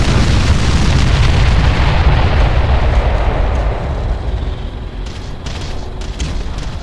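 Artillery bombardment in the strategy game Ground Control, a dense rumbling wall of heavy explosions booming continuously, loud and close, then easing into a lower rolling roar with a few scattered sharper bursts toward the end.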